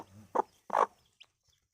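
A desi rooster and chickens cluck nearby: two short, sharp clucks a moment apart, then a faint peep, in an otherwise quiet setting.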